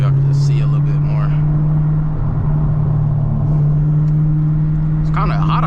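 A Chevrolet Camaro ZL1 with a 6-speed manual driven in second gear, its engine a steady loud drone with a strong low hum and a brief swell, as the driver talks over it.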